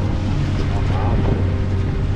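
Outboard motor on a fishing boat at sea, a steady low droning hum mixed with wind buffeting the microphone, continuous and close.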